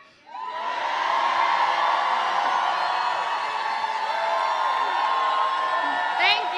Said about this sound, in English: Can we roar?